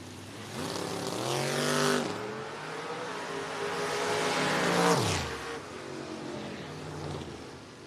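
Two drag cars launch hard at a race strip, a 1968 Camaro against a Plymouth Duster, their engines roaring loud and close with rising revs that swell, fade around two seconds, then surge again near five seconds.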